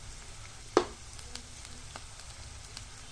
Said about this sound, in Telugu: ఇవన్నీ వేసుకుని కొంచెం ఫ్రై అయ్యే వరకు వేపుకోవాలండి.